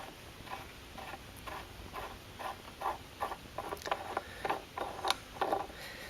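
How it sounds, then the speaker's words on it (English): A sink faucet cap assembly is unscrewed by hand, giving soft, close ticking and ratcheting clicks in an uneven rhythm against a faint background hiss. "we can set the adjustable wrench down and finish removing the cap assembly by hand"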